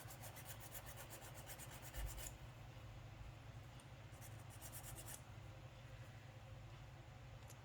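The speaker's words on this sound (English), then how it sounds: "I can take my file, and I can file off that burr" A hand file rasps a burr off the edge of a copper blank, steady close scraping strokes with a brief heavier knock near the middle.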